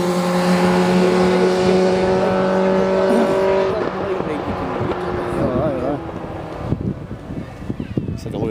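Single-seater race car lapping the Knockhill circuit, its engine note loud and close with sustained rising pitches and shifts, wind rushing over the microphone and someone talking over it throughout.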